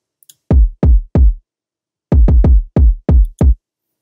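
Punchy, deep electronic kick drum hits from MIDI notes, three spaced hits followed by a quicker run of six, each with a short boomy decay, alone in silence.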